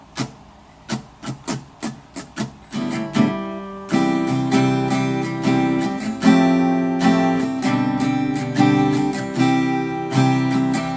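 Acoustic guitar strumming the pattern for a song: a few sparse strokes, then a steady repeating strum of ringing chords, close and fairly loud.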